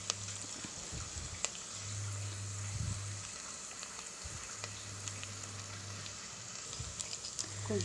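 Ginger, garlic and coriander sautéing in a pan for chicken biryani, a steady soft sizzle and hiss running throughout with occasional stirring clicks and a low hum underneath.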